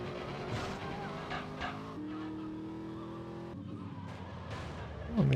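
A car in GTA Liberty City Stories on PS2 slides and skids with a sustained engine drone and tire noise, tones shifting as it loses grip, fairly loud throughout.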